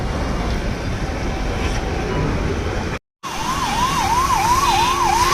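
Vehicles rumble steadily in a traffic jam. After a short gap, an ambulance siren wails nearby with a rising and falling yelp over the traffic noise.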